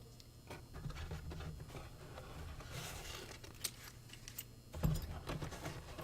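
A couple of keys jangle and click together softly near a Schlage fire-rated door lock with its deadbolt, a scattered run of light metallic taps with one sharper rattle toward the end.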